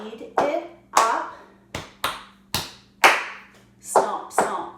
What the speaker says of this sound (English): Stomp, stomp, clap, chest, pat, chest, chest, clap